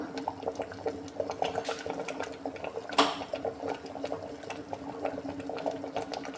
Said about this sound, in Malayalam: അപ്പം നമ്മുടെ സാമ്പാർ നന്നായി തിളച്ചിട്ടുണ്ട്